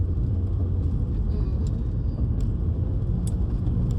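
A car driving along a road, a steady low rumbling engine and tyre drone heard from inside the vehicle, continuous and fairly loud with no talk.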